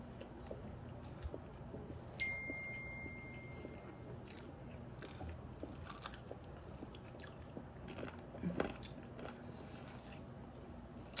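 Close, quiet biting and chewing of crunchy fried plantain tostones from a food truck, with repeated crisp crunches and squishy mouth sounds at an irregular pace and no talk over them.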